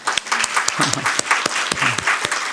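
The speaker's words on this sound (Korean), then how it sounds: "수고 많이 하신 우리 성교사님께 우리 축복의 박수 합시다." A church congregation at a Wednesday worship service claps in blessing for a missionary, brisk close applause with distinct individual claps and a voice speaking over it.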